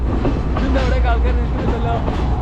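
A Sri Lankan passenger train running from Ella to Kandy makes a loud, continuous rumble with rattling, clattering car noise, heard close from on board. Voices come through faintly under the din.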